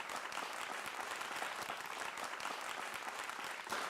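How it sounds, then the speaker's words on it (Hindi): A studio audience of young people at a televised Gen Z political debate breaks into thunderous applause. The dense, even clapping continues without pause, sounding distant and rather faint, with no voice over it. "तालियों की गड़गड़ाहट बता रही है कि आज का कार्यक्रम कैसा होगा।"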